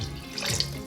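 Broth poured into a pot of potato soup, a brief steady liquid splash and trickle heard up close, with no talking.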